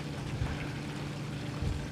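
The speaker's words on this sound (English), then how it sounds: "Here's a little waterfall." A small waterfall in a Queens garden beside a beer garden pours steadily, a dense continuous rushing wash of water filling the whole stretch without pause.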